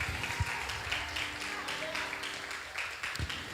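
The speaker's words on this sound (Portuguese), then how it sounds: "Vamos aplaudir a Deus mais uma vez em nome de Jesus" A church congregation applauds together during a worship service, uneven hand claps with a few sharper individual claps standing out, and a voice speaking over the clapping.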